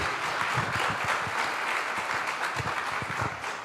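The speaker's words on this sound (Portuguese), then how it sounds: "Você pode aplaudir a Jesus?" Steady applause from a church congregation, dense and sustained throughout, filling the room at even loudness with no voices on top.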